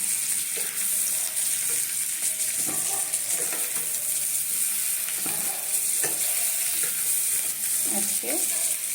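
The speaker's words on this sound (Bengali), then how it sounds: "আলুগুলোকে খুব সুন্দর করে ভাজতে হবে, তাহলে টেস্ট আসবে তেলের মধ্যে।" New potatoes fry in hot oil with a constant close sizzle while being stirred, with occasional scraping and clinking against the pan.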